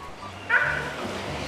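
A dog gives a short yip-like bark, apparently among several dogs being gathered to walk together. Steady background noise runs underneath, and the bark stands out near the middle.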